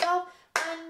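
Two hand claps marking a rhythm while counting a flute piece, each sharp and close, the first ringing out before the second lands about half a second later.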